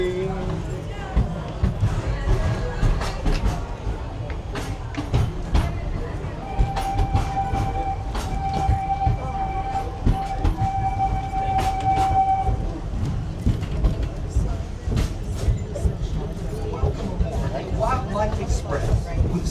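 The Wildlife Express train at Disney's Animal Kingdom rumbles and clatters steadily along the rails, a horn sounding for several seconds midway, with passenger chatter murmuring throughout.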